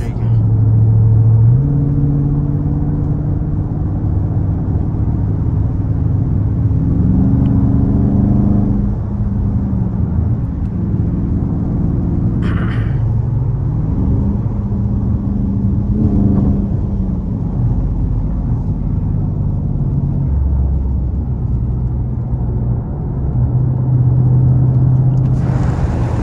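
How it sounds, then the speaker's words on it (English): A 485 HP Dodge Charger Scatpack rumbles steadily at low pitch while driving, with droning road and engine noise from a shaking rear tire, a person talking over it inside the cabin. "You could probably even hear things in the car shaking because the tire's shaking."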